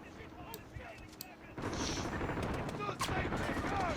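Rapid gunfire from the Warzone shooter game running on a Ryzen 5 3400G PC with Vega 11 onboard graphics: quieter scattered shots at first, then a dense, continuous burst of automatic fire and explosions.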